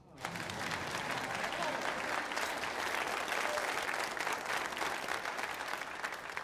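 A crowd breaks into sustained applause, dense and even clapping that starts abruptly and carries on steadily for several seconds, moderately distant with faint voices mixed in.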